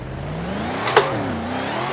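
A car in Forza Horizon 4 accelerates with a rising supercharger whine over the engine note, the pitch climbing steadily, broken by a brief sharp click partway through.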